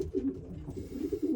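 Older racing pigeons in a loft, soft throaty cooing repeating in low rolling pulses, close and steady with no talking.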